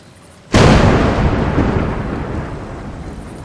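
A sudden loud thunder crack in the A Juggler's Tale video game bursts out after a quiet moment, then rolls into a long rumbling decay that slowly fades.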